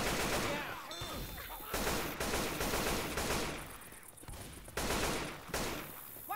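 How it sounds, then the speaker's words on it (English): Sustained bursts of rapid gunfire in a shooter video game, loud and dense with brief pauses between volleys, filling the whole stretch. "I'm firing my gun."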